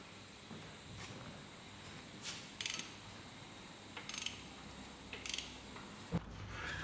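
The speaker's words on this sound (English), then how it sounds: "all I have to do is rotate the engine over 2 full revolutions" A ratchet turns over a Ford Focus 1.6 engine by hand, giving quiet, intermittent clicking and mechanical creaks in bursts, faint and close, with no speech.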